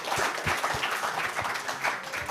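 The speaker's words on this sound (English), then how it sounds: "I ask for one more round of big applause to presenter" A symposium audience gives presenters a round of applause, with close individual claps rising out of steady crowd clapping throughout.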